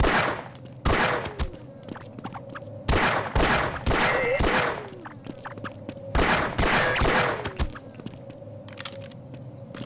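Pistol gunfire in the Half-Life video game: several quick clusters of sharp, loud shots spread across the stretch, with brief pauses and echoing tails between bursts.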